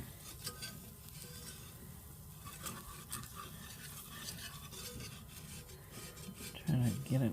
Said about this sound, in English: we're going to mix that in with this whisk